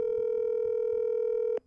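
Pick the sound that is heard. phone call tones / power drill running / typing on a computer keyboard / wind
phone call tones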